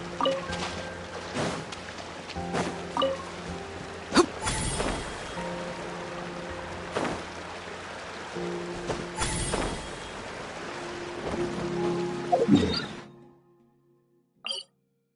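Rain falls steadily in Genshin Impact while exploring Natlan, a dense continuous hiss with scattered game noises and brief voice bits, cutting off abruptly near the end.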